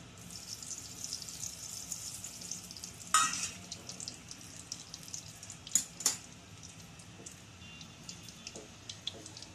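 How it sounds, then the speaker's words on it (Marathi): Coconut pieces roasting in a little oil in a pan for dry bombil curry, a continuous quiet sizzle with a few sharp clinks and scrapes of stirring. "पहिलं मी खोबरं भाजून घेते कारण आपण काय खोबऱ्याचे तुकडे केलेले आहेत ना, मग ते भाजायला वेळ लागतो"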